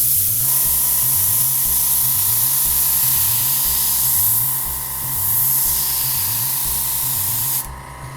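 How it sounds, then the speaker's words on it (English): An airbrush sprays paint in practice strokes on canvas: a steady, close, loud hiss over a low compressor hum, easing briefly mid-stroke and shifting just before the end. "move the airbrush close to the canvas, then far away, then back and close, adjusting your speed accordingly"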